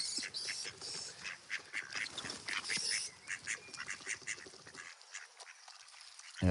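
Ducks scuffling and quacking in a rough fight among females, a dense run of loud, overlapping calls and splashy commotion that stops abruptly near the end.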